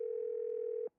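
A telephone dial tone from the video game Who is Serena: one steady, clean, moderately quiet tone that holds for under a second, then cuts off abruptly.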